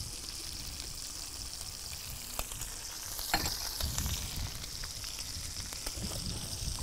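Shrimp and seasonings stirred and flipped in a sizzling frying pan for a pineapple shrimp salad, continuous hiss of frying with close scraping stirs and a few sharp utensil knocks.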